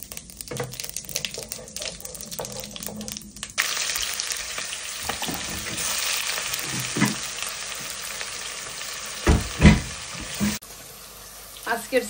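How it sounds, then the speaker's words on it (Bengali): Chopped onion, bay leaf and cumin hit hot oil for a chicken curry, and a loud steady sizzle starts after a few seconds of clatter, with stirring knocks and scrapes close by. "পেঁয়াজ কুচি, তেজপাতা, জিরা ফোড়ন দিয়ে দিচ্ছি।"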